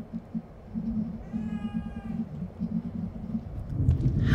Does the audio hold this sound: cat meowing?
yes